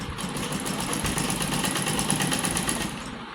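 A close sewing machine whirs without pause as it stitches an embroidered neckline. The motor hum and quick needle chatter hold steady, then ease slightly near the end, with no voices.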